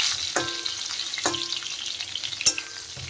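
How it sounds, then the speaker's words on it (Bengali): Pointed gourd (potol) frying in a pan, a steady close sizzle broken by three sharp clanks of a utensil against the pan as the pieces are stirred. "দেখেন পটল কিন্তু অনেকটাই ভাজা হয়ে গেছে"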